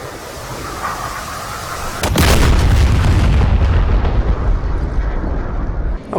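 Dumb bombs dropped from an F/A-18 in the DCS combat flight simulator strike their target, sending a loud, rumbling boom that rises abruptly and then rolls on for several seconds.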